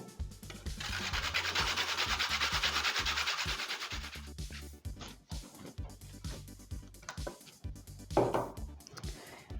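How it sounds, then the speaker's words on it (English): A carrot grated by hand straight into a bowl of cabbage for coleslaw: a sustained rhythmic rasping for about four seconds, then shorter, quieter scraping strokes with brief pauses, close and clear with no talking. "Carrot, just gonna grate it straight into the bowl."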